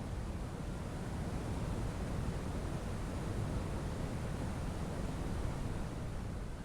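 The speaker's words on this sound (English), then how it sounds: "I made it a little further up in elevation just to gaze at a cascading waterfall." Cascading waterfall in a mountain forest, a steady, dense roar of falling water that holds constant throughout, close and fairly loud with no voices.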